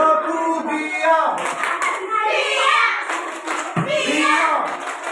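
A class of schoolchildren claps through a rhythmic 'tepuk diam' routine led by their teacher, with close, crisp bursts of clapping mixed with the children's chanting voices.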